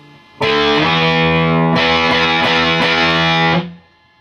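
Loud, close distorted electric guitar strums a riff, a sustained chord on the fifth and fourth strings followed by a slide and four crisp repeated strums before the sound stops abruptly.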